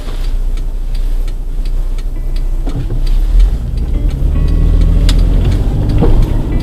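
A car drives around the Vernon Hills area of Illinois in spring, with a constant low road rumble from inside the cabin and a regular ticking, like a turn signal, clicking over it.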